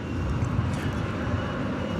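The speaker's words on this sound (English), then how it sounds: "So a United plane there taking off in the background on the on the east side of the airport." United Airlines Boeing 737 MAX 9 taking off at night from the east side of DFW Airport, a steady low, broad engine roar heard from a distance with no other sounds on top.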